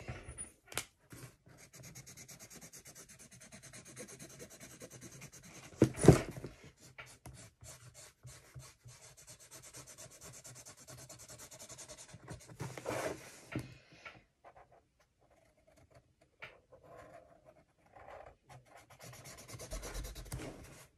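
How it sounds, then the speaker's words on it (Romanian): A pencil or crayon rubs back and forth on paper while a drawing is coloured in, soft close scratchy strokes in irregular bursts with a few quiet pauses. "Acum o să colorez."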